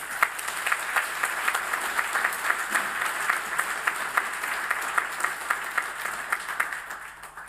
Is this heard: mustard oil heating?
no